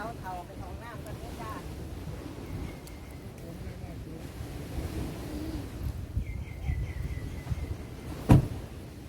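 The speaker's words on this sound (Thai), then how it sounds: "ลมพัดเย็นดีครับผม" Cool wind gusts across a seaside spot, a steady broadband rush with a louder buffet near the end, heard beneath some soft background voices.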